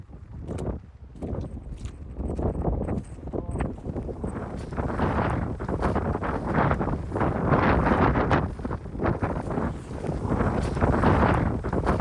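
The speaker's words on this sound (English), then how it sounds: "The wind has picked up a little bit" Steady, rumbling mountain wind buffets the microphone throughout, with gusts swelling and easing but never stopping.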